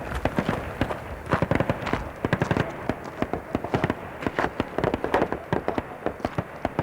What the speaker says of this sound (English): Very suddenly, firing has broken out just down the road ahead of us